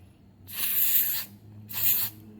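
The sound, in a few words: silicone spray sprayed on motorcycle key switch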